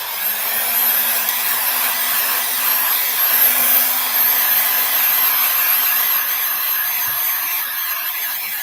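Hair dryer blowing steadily on an art project in a craft workshop, a continuous close whirring rush of air that holds evenly from start to finish with no talking over it.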